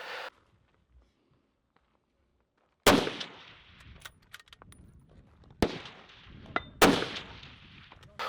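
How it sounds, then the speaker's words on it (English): Precision rifle shots at a 300-yard stage of an outdoor match: three sharp, loud reports spaced a few seconds apart after a quiet pause, each trailing into echo and faint handling noise. "So my game plan here was to start standing and just fire 2 rounds off."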